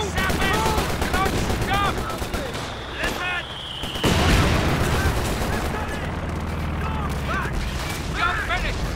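Rapid machine-gun and rifle fire crackles through a Company of Heroes 2 battle. Dense bursts continue across the whole stretch, with a heavier blast near the middle, and voices are heard in the mix.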